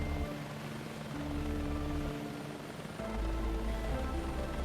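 A helicopter flies low in a flight simulator game at a defence helicopter flying school session, its steady rotor and engine drone humming continuously with shifting pitch, fairly quiet and alone.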